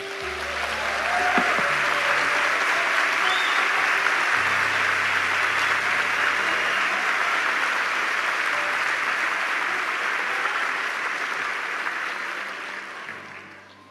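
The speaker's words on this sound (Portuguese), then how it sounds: "Eu queria pedir uma salva de palmas para esses irmãos." Sustained applause from a church congregation, steady and full for over ten seconds before tapering off at the end.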